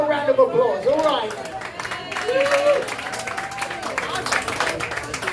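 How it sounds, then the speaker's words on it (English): A crowd claps and cheers for the bar hosting the bands at a live rock show, with a voice carrying over the applause and chatter running beneath it. "Give them a round of applause."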